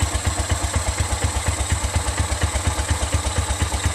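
An Exmark Metro 36-inch commercial walk-behind lawn mower engine idling close by, a steady rapid low chugging with even pulses and slight clatter, running alone without talk.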